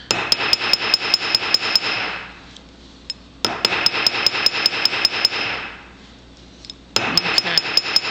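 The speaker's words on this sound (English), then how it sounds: "I'm just doing very light taps back and forth." A light hammer taps on a metal rivet in three quick bursts of about eight sharp, ringing, evenly spaced strikes each, separated by short pauses, loud and close.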